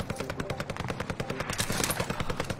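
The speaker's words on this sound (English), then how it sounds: "You can hear him shooting, eh? That's him shooting." Rapid automatic gunfire from an enemy player in a video game rattles in a steady, fast rhythm of sharp cracks, moderately loud and continuous, with no talking over it.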